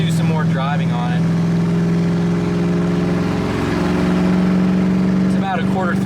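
A Ford Crown Victoria with a Marty tune cruises with a steady, loud engine drone and road rumble throughout, while a person talks over it.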